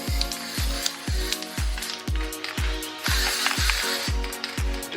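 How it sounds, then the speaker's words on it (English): Spray paint hisses onto a car's front grill. The steady, airy spray runs over a regular low thumping pulse of roughly two beats per second. "I'm just gonna go over spray just a bit."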